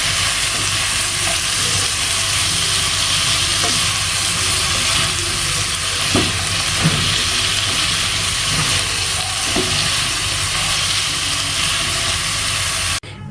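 Pumpkin pieces fry and sizzle steadily in hot oil with a steady hiss, while a spatula stirs and scrapes the pan now and then, close and loud, with no talk.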